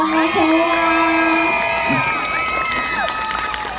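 An audience at a local singing contest during the Goryeong Daegaya Festival claps and cheers for a performer. Loud, bright whoops and shouts ring out over the applause, and the noise thins gradually toward the end.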